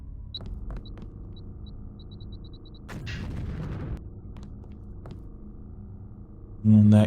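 A security turret fires in the video game Deus Ex: Revision. Scattered faint shots and soft beeps sound over ambience, with a louder burst of gunfire in the middle and a sharp, close sound at the end.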